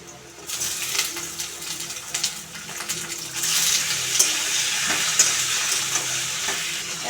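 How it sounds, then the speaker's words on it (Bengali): Chicken skin goes into hot mustard oil with fried onions, bursting into a sizzle that grows louder and steadier, with stirring clinks and scrapes close by. "এবার আমি চিকেন স্কিনগুলো দিয়ে দেবো।"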